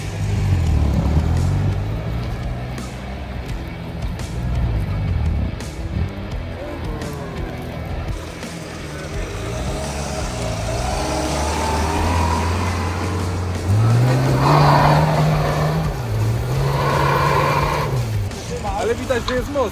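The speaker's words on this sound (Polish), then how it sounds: "Nic nie słyszę, bo silnik hałasuje." A new rally car's engine revs hard up to full power, its pitch climbing and falling in long surges, loud and close, with people talking over it.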